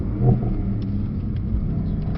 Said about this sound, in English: So now we really hear that engine roar now.